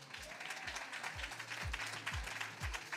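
A church congregation at a Sunday morning worship service applauds, a soft, distant patter of clapping running continuously beneath low repeated thumps.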